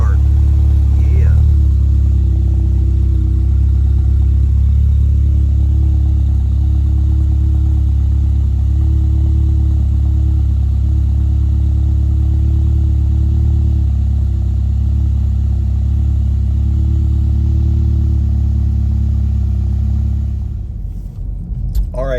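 A Volkswagen Mk7/7.5 GTI with an AWE Touring catback exhaust idles loudly after a cold start, a steady deep drone with a brief rev near the start, close to the exhaust, cutting off at the end.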